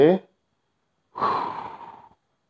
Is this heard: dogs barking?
no